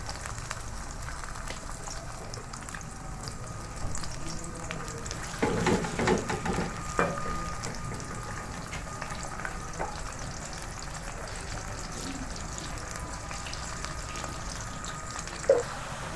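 A large chopped onion sizzles in a pan as it fries until golden, a soft steady crackle with occasional stirring scrapes and louder bursts, close and otherwise quiet.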